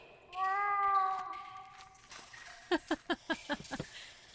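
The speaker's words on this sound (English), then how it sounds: "Oh shit, I just heard a cat." In a video game, a cat meows behind a wall: one long drawn-out meow rises and falls, followed by a quick series of short knocking taps, all faint and slightly muffled.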